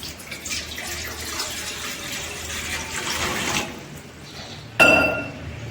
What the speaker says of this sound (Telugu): ఇప్పుడు నేను 700 ml వాటర్ పోస్తున్నాను